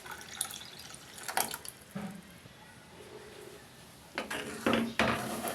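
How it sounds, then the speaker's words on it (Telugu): A small glass of water is poured into a pot of milk for bottle gourd payasam, heard as short splashes and trickles with utensil clinks and faint background voices. "అలాగే ఒక చిన్న గ్లాసు వాటర్ వేసుకుందాం."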